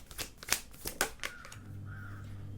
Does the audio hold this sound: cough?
no